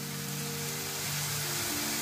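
Baby corn and ginger tossed into a hot pan with softened tomato for stir-fried paneer, a steady bright sizzle and hiss running throughout with a low hum beneath and a small clatter at the end.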